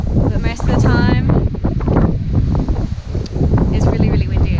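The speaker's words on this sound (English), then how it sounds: "it's really, really windy" Strong wind buffets the microphone on an exposed homestead, a steady broadband roar with gusts that never lets up, while a person talks over it throughout.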